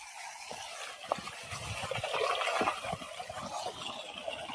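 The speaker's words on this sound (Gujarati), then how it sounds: "इधर पानी आएगा" Water pumped by a freshly started motor into a cattle drinking trough, a steady rushing gush that swells slightly midway and keeps flowing without pause.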